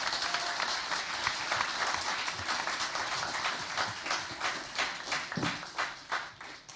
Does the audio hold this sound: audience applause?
yes